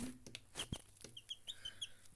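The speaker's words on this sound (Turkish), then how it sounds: "Bakın arkadaşlar iki tane civciv." Faint, high chick peeps chirp in short bursts over a quiet background, with a few soft clucks and light handling noises.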